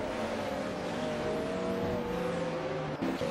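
A McLaren F1 GTR race car engine in an AI-driven GT500 racing video game at New Jersey Motorsports Park drones steadily at high revs, with layered engine tones from nearby cars blending into a continuous, loud roar throughout.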